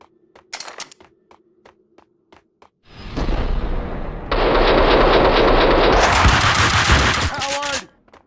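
Sustained gunfire from the video game Max Payne 2: a few short isolated shots, then loud continuous automatic fire that swells into a dense roaring barrage before cutting off abruptly.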